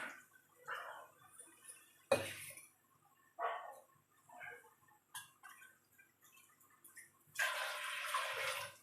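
Water is poured from tumblers into a pot while making kozhukattai. Several separate splashing pours come in short bursts between quiet gaps, heard close in a kitchen with no speech.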